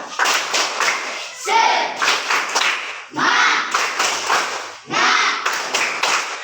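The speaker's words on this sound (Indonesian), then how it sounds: "Oke, semuanya tepuk semangat" A classroom of students performs a spirited rhythmic clapping chant on cue, loud bursts of sharp claps in grouped patterns separated by brief pauses, with voices shouting along.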